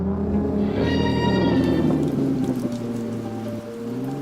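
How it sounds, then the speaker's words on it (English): Steady heavy rain pours across the water outdoors in a Batman motion comic, with a low droning engine rumble running underneath and swelling slightly; no voices. "Across the water, outside, engines rev in the rain."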